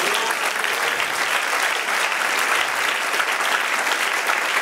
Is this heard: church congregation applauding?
yes